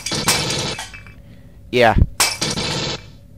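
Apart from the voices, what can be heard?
glass breaking in the video game Aliens vs. Predator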